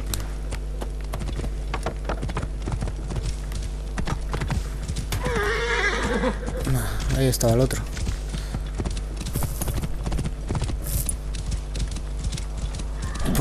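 A horse in the video game Assassin's Creed Origins gives a loud whinnying neigh midway while its hooves clip-clop in a steady rhythm, with someone talking briefly in between.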